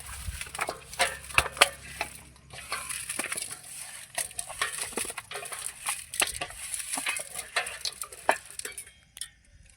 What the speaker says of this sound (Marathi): बघा असं हलवून घ्यायचं